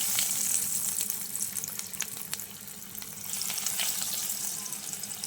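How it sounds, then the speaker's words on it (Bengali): Egg chops fry in hot white oil over a medium gas flame, a steady close sizzle with bursts of sharp crackling and bubbling. "আমি গ্যাসের ফ্লেমটাকে মিডিয়ামে রেখে চপগুলোকে ভেজে নেব"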